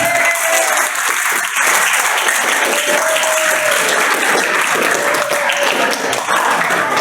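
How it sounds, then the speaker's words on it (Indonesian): Sustained applause from a crowd of ninth-grade students at a school gathering in a junior high, dense and steady throughout, with a faint voice over the clapping. "Tepuk tangan untuk kita semuanya"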